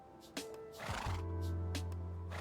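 A horse in the video game Minecraft neighs in a clear whinny, with a faint clip-clop and other quiet game sounds around it and no speech.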